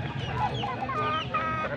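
Young roosters (stags) clucking and calling at a poultry sale in Angeles, Pampanga, several birds overlapping in a busy, continuous chorus with no clear talk.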